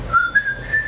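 A person whistles a short rising tune, a clear pure tone lasting under a second with no talk over it.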